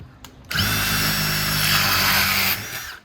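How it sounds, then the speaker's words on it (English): A power drill with a tile bit whirs loudly and steadily for about two seconds, starting abruptly and cutting off sharply, with a high grinding edge as it bites through. "I used to drill through this. I used a tile bit"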